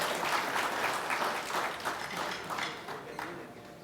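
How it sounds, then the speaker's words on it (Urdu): Steady, dense applause from the audience at an Urdu poetry evening (mushaira), many hands clapping together at even loudness for the whole stretch. "بھرپور تالیاں"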